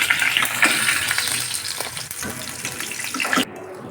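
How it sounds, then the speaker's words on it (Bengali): Potatoes fry in hot oil for a drumstick and mustard chorchori, with a dense, loud sizzle and scattered clinks of stirring that stop abruptly near the end. "এখন আলুগুলোকে ভেজে নেব।"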